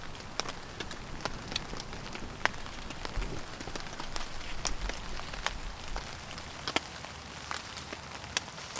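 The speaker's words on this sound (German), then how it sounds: "weil es regnet und du keine Lust hast, im Regen rumzustehen" Rain falls in a forest beside a beech tree decorated for a Christmas party, a steady patter of sharp drops striking nearby surfaces throughout, close and even, with no voices.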